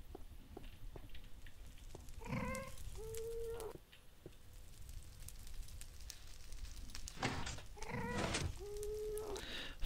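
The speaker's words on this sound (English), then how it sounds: "Why is there a cat up there?" Cat meowing inside a Minecraft-style video game, two short bursts of tonal meows repeated near the start and again near the end, over a steady crackling background like fire or rain.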